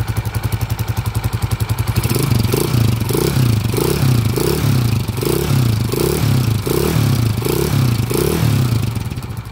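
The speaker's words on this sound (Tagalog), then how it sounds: "kung maririnig nyo mga bro, singaw talaga yung tambutso nya." A TMX155 motorcycle engine with a leaking exhaust idles loudly and close, with a rough, uneven putter and a rhythmic chuffing, rasping exhaust pulse that repeats steadily throughout.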